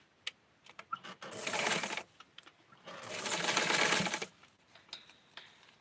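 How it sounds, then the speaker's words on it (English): A sewing machine stitches stretchy fabric during a doll dress restyle, running in two sustained bursts of rapid whirring separated by a pause, with small clicks and handling noises before and after. "I'm just going to sew straight through."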